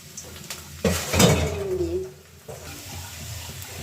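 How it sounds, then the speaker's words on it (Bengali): Onions being stirred in a pan for a fried radish and egg dish give clattering utensil scrapes and knocks against the pan over a low sizzle, close and uneven, with a louder burst of clanking midway. "একটু নেড়ে চেড়ে পেঁয়াজের কাঁচা গন্ধটা চলে যাওয়া পর্যন্ত একটু নাড়তে হবে।"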